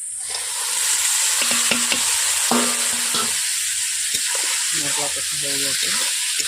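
Peas and potatoes frying with spices in a pan, a steady broadband sizzle with faint stirring scrapes and brief soft knocks throughout, fairly close and continuous with no talking.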